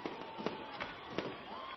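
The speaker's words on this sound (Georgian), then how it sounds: "სცენაზე ფეიერვერკით დატკბობაც მოასწრო" A short burst of crackling pops and bangs from stage fireworks at a concert, several quick reports over a dull background roar, fairly faint.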